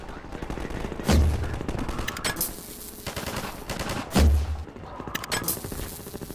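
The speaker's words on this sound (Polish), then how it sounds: "Z tych dalekich strzałów jest satysfakcja, powiem wam" Rapid automatic gunfire in the video game Half-Life 2, with long rattling bursts of shots and two heavier booming blasts, steady and loud throughout.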